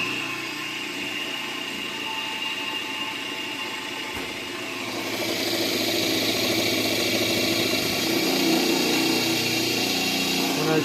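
An experimental permanent-magnet rotor motor with four sideways NSNS magnets, running on a 6 µF run capacitor with its circuit shorted, hums steadily up close; the drone grows louder and rougher partway through as it lugs under load.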